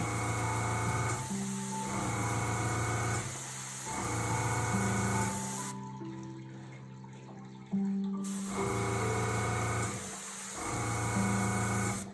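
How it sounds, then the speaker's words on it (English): Airbrush hissing steadily as it sprays icing onto a sunflower cookie, running in several long bursts with a brief break near the middle, loud and close with a constant motor-like tone beneath. "Everybody thinks that airbrushing cookies takes a really long time, but it really doesn't."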